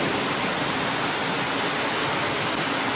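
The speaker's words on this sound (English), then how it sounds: "This is just a nice light rain." Light afternoon rain falls on a carport roof as a steady, dense hiss of patter that stays even and fairly loud throughout, with no voices.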